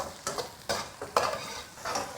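Ginger, scallion and dried chilies stir-fried in oil over low heat, giving a soft sizzle with four or five rhythmic scraping tosses of a wok utensil, close and fairly quiet.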